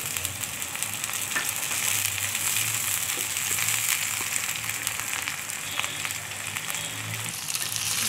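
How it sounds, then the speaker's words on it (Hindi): Ginger garlic paste frying with browned onions in a pan for a dhaba-style daal mash makes a steady, close hissing sizzle, broken by light scrapes of stirring, with no voices. "लहसुन अदरक को भी आप इस तरह फ्राई कर लें।"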